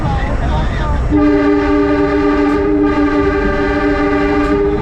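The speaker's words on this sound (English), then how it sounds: "that's a work train horn" A loud, sustained New York subway work train horn blares after a second of rumbling, holding one steady chord over continuous rail noise.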